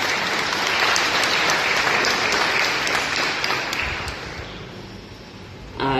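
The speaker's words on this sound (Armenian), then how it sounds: "Ծափահարենք նրանց։" An audience gives sustained, dense applause for returned Peace Corps volunteers at a swearing-in ceremony in Armenia, the clapping tapering off before a sharp burst at the very end.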